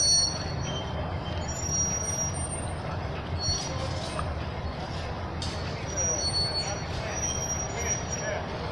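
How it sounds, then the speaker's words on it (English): A truck pulls away on the 16th Street Mall in downtown Denver, its squeaky brakes giving thin high squeals over a low engine rumble and street noise. "Had some squeaky ass brakes."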